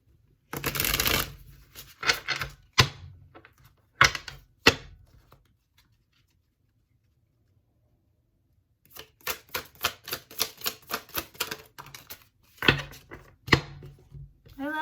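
Tarot cards being shuffled and flipped close up: crisp riffling bursts and sharp slaps, a dense flurry at the start, scattered flips, a quiet gap, then a long rapid run of fluttering card snaps.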